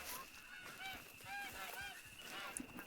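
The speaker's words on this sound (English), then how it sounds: "Geese." Geese in the hunting game Hunter: Call of the Wild honk repeatedly at a distance, several quiet nasal calls overlapping over a faint outdoor ambience.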